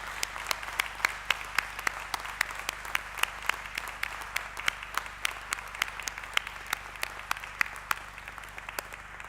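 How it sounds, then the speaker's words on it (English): Graduates at a university graduation ceremony in Coleraine applaud steadily, a continuous wash of clapping with sharp individual claps standing out, heard from a little distance in a large hall. "So I invite all of you, our graduates, to stand with me and to applaud those on the other side of the house"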